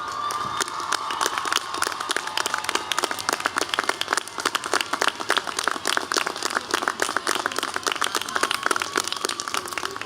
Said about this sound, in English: Graduates, please join me in a great round of applause